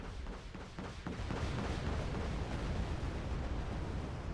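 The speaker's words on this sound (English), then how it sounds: "get some napalm coming down." Napalm comes down in Wargame: Red Dragon as a low, rumbling roar of fire and explosions, building from a few thuds into a sustained, dense blast of heavy booming across the whole stretch.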